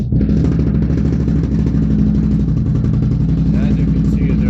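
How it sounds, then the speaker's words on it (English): A Can-Am Renegade XMR ATV engine starts and settles into a steady, loud idle with an even, rapid thrum close by, its throttle held still, while someone talks over it. "I'll get the bike running"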